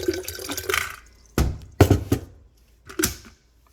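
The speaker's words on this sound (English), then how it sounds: "I use filtered water and I pour it into my hot pot" Filtered water splashes and pours into an electric hot pot in short bursts, a few separate gushes with quiet gaps between them, close and fairly loud.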